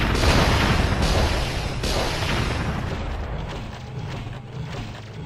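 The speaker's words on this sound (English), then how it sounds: "Mini rocket." Dense barrage of rocket fire and impacts from mini rocket launchers in the real-time strategy game Warzone 2100, a loud continuous rumbling roar with repeated booms that gradually thins out.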